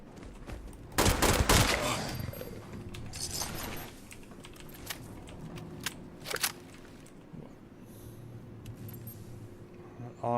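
Fallout 76 gunfire: a close burst of rapid shots early on, then scattered sharper cracks and clicks over a low background hum, with faint talk underneath.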